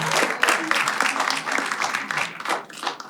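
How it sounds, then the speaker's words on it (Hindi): Audience clapping and cheering at a live stand-up comedy show, a brisk, lively burst of applause from a crowd, fairly close, with some voices mixed in. "एक बार ऑडियंस के लिए ताली बजा दो।"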